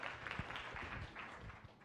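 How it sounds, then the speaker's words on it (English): Applause from a science cafe audience after a talk on Jordan Lake, a soft, steady wash of many hands clapping at a modest distance, fairly faint throughout, with a few louder claps standing out. "Let's give him a round of applause."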